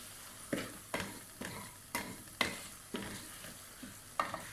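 Masala paste frying in oil as it is stirred, with the oil starting to separate, for creamy white chickpeas; a steady soft sizzle is broken by regular spoon scrapes about once a second, close and without talk.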